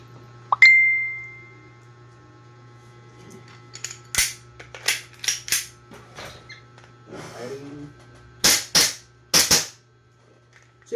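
E&C Glock 19 airsoft gas pistol, its loading nozzle just fixed, fires BBs in a string of sharp, close cracks, first a few spaced shots then a quick cluster near the end, with a short gas hiss and small handling clicks between.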